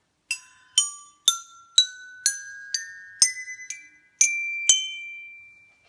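A homemade pipe instrument of upgraded design is struck in a rising sequence of about ten bright, ringing tones, each clear strike followed by a sustained chime-like ring that fades slowly, played alone at moderate loudness.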